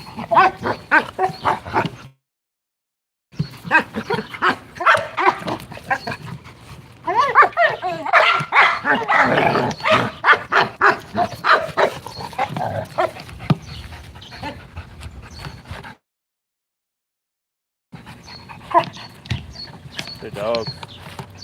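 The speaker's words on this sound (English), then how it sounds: "Good dog." A dog barks, pants and growls up close in bursts of rapid, rough barking separated by brief silent gaps, with a person speaking intermittently.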